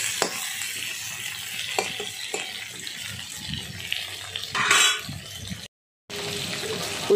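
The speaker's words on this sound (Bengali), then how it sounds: "এবার উচ্ছেগুলো তেলে ভালো করে আমি নাড়াচাড়া করে নিচ্ছি।" Bitter gourd stirred and fried in hot oil in a pan, giving a steady wet sizzle with scraping stirs, a short burst of louder frying, a brief silent gap, then the sizzle resumes.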